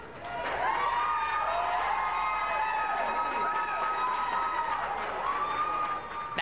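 A crowd inside the US Capitol cheers Republican leaders during health care protests, with a sustained roar of voices, whistles and shouts that stays loud and steady throughout.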